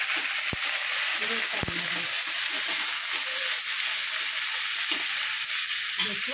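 Onions frying with ginger, chilli and garlic in a pan, a broad steady sizzle throughout with a couple of sharp utensil knocks near the start and faint murmurs in the background.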